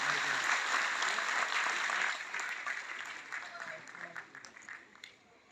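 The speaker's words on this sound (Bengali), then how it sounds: "করতালি দেওয়ার জন্য অনুরোধ করব" Audience applause at a closing ceremony of an arts festival in Agartala Town Hall, many hands clapping in a broad crowd wash that fades out over several seconds.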